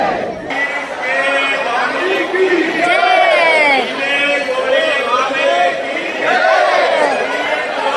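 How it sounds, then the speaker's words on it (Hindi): A dense crowd of pilgrims at Khatu Shyam temple chants a jaikara together, a loud sustained rhythmic group shout in repeated surges with chatter underneath. "आइए शीश के दाने का जयकारा लगाते हैं और सुनते हैं जयकारा।"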